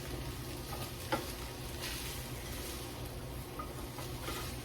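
A pork and vegetable stir fry cooks in a pan with a soft, steady sizzle and one brief clink of a utensil, nearby and fairly quiet.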